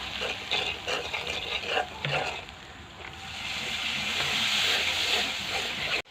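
Dried fish fries with garlic, onion and spices over an outdoor wood-fired clay stove, making a loud, continuous hiss and sizzle with faint stirring sounds. It grows steadier toward the end and stops abruptly.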